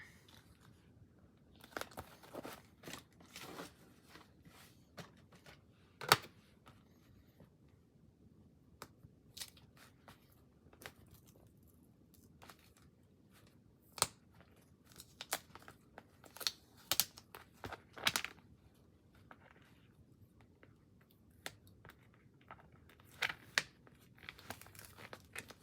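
Excess cut vinyl being weeded from a Cricut shirt design: faint, scattered crinkling and sharp peeling tears, coming in irregular bursts close by against a quiet background.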